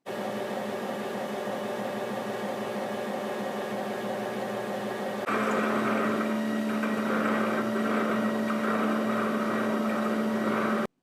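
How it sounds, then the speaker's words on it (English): A Roborock Q Revo robot vacuum dock cleaning its mops: a continuous mechanical whir with a steady hum, stepping up to a louder, more tonal drone partway through, like a motor and pump running; no speech. "And how do they sound when they are cleaning their mops?"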